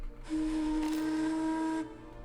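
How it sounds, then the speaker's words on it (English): A steam whistle in the video game The Movies blows one sustained, loud, steady tone for about a second and a half, standing alone with no talk over it. "That goddamn steam whistle."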